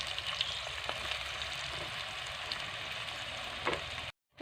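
Tomatoes and onions fry in a pan for prawn coconut rice, giving a close, even sizzle with light stirring clicks throughout before cutting off abruptly into silence.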